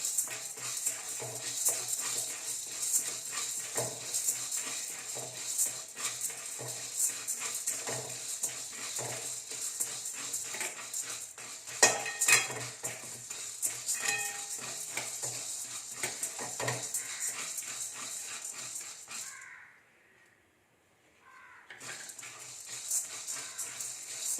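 Ingredients for chutney powder dry roast in a pan over a high flame, with continuous scraping, stirring and light rattling from a spatula against the metal, a steady busy clatter that drops out briefly near the end.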